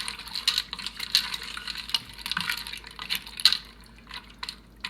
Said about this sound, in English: I'm going to give this a nice stir.